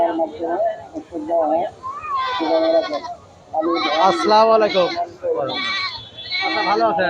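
Goats bleat repeatedly at a busy livestock market, nasal wavering calls coming close and loud in clusters, overlapping with a man's greeting and chatter from the crowd.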